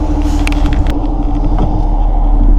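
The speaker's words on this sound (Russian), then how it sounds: "вот уже мой автобус подъехал" A city bus pulls up at a stop on an autumn Baltic coast route, its engine rumbling steadily and fairly loud, with light mechanical creaks and clunks over the idle.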